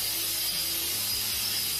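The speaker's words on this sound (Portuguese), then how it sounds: "aí agora que estou lixando" Pallet wood being sanded for a small bar cabinet, a continuous close, harsh abrasive rasp with faint low rumbling strokes beneath.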